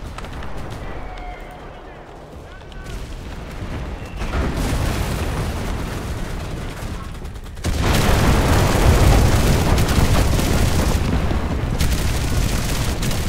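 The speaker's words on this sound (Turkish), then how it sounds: "Çok pis bomba alıyorlar." Bombs bursting during a battle in the shooter game Enlisted, a dense roar of booming blasts and gunfire that swells louder midway and stays heavy, with a voice speaking over the din.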